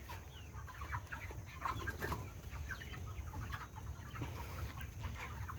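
Broiler chickens crowd a poultry farm shed, filling the air with a dense, steady murmur of clucks and calls, with brief bursts of wing flapping. There is no talk.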